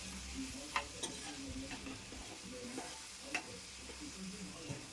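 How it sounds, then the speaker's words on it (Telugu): Mutton kheema with ground masala frying in a pan, soft sizzling under repeated spoon scrapes and light clinks against the pan as it is stirred, close but quiet. "ఈ మసాలా మిశ్రమాన్ని కర్రీలో వేసుకుని పచ్చివాసన పోయేంత వరకు కర్రీని బాగా కలుపుతూ వేయించుకోవాలి."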